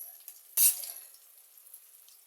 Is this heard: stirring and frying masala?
yes